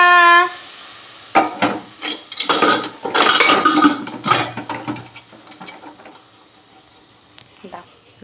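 Potatoes for a homemade aloo dum tip into a metal cooking pot, a burst of clattering knocks and scrapes followed by a few softer stirring clinks, with a brief voice at the start.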